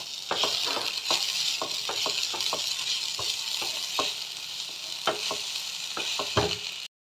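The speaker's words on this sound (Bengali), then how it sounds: "এইগুলো সব আমি ভেজে নেব" Capsicum and ginger fry in a pan under a constant hiss of hot oil, broken by repeated sharp clicks and taps of a spatula against the pan, close by, ending abruptly in silence.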